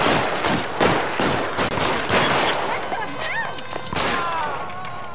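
Rapid gunfire in an L.A. Noire shootout: dense bursts of shots crackle loudly one after another, tapering into scattered reports with whistling ricochet-like tones, voices shouting underneath.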